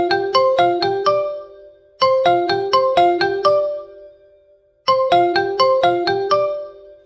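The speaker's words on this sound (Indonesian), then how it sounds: "Tapi di tengah duel itu, handphone Takumi malah berbunyi." A mobile phone ringtone plays a bright chiming melody of quick repeated tones. It comes in three loud bursts with short silent gaps between them, close up and with no voices.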